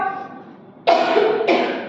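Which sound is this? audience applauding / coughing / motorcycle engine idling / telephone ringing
coughing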